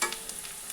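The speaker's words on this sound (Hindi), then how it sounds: "इसे कम से कम लाइट ब्राउन तक हमें फ्राई कर।" Onions fry in a hot pan while being stirred, a bright continuous sizzle with a few soft scraping strokes, close and fairly loud, in a short burst with no talking.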